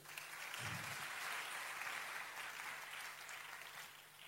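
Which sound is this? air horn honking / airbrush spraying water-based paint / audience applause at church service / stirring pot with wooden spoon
audience applause at church service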